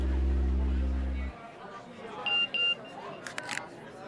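A phone gives a short message notification: two quick beeps followed by a brief pair of sharper chirps, faint and set over quiet room tone after a low hum cuts off.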